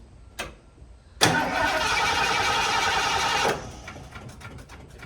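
An antique carbureted RV engine cranks and catches, roaring steadily for about two seconds before cutting out, heard up close after a brief click, with no talking over it.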